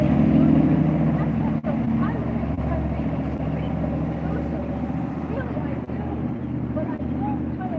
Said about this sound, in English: gotta hear these engines.